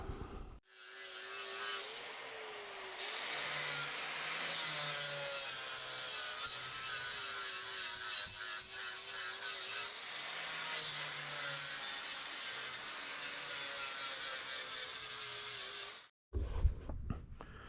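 A flap wheel on a grinder cleans up a cut steel crossmember for an LS-swapped S10, a loud continuous whining, rasping grind that holds steady for about fifteen seconds before stopping abruptly, followed by a brief clatter.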